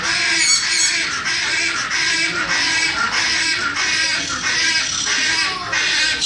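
A rare, critically endangered wild parrot calls loudly and continuously at close range, a harsh raucous squawking that fills the whole stretch without pause.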